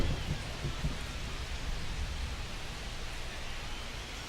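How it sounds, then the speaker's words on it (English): Steady rain pours over a ballpark in the baseball video game MLB The Show 25 during a Royals versus Yankees game, a dense, even hiss that holds loud and unbroken throughout with no voices. "This rain is not letting up."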